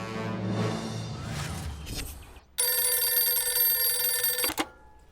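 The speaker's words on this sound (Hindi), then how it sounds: "मानव, कमिश्नर सर को फोन लगा।" A telephone rings in a drama scene, starting mid-clip with a loud, steady electronic bell tone held for about two seconds before cutting off, after a stretch of music-like background sound.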